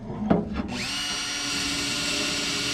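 A Makita cordless drill spins up after a couple of handling clicks and keeps whirring at a steady high pitch, close by.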